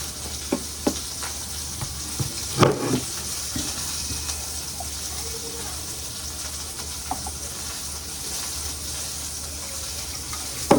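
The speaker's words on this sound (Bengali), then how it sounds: "মাছ ভাজতে বসিয়ে দিয়েছি একটুখানি অলিভ অয়েলে" Fish fries in a little olive oil in a pan, a close, steady hiss and sizzle running throughout, broken by a few soft clinks and knocks.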